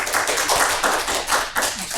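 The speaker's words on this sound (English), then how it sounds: "So please welcome big applause for our panelists." Dense, steady applause fills a crowded room at an open-source software security panel, many hands clapping together close by, with no talk over it for about two seconds.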